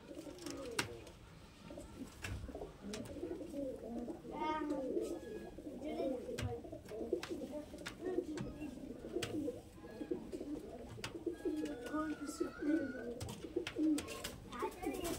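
Green-eyed Madras pigeons coo repeatedly in low, throaty bursts close by, while people talk intermittently over them and small clicks and rustles come and go.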